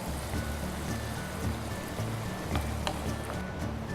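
Soy sauce poured into a hot pan while cooking Paneer Manchurian, a steady close wash of liquid hiss over a low background hum, with no talking.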